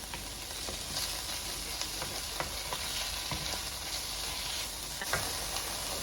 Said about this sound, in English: So go ahead and add your meat, and then just let this brown.